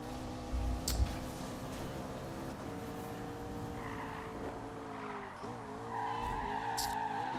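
A supercar drifting in a racing video game, with an engine whine that sweeps and dips, a brief thump near the start and a sustained tire squeal rising toward the end.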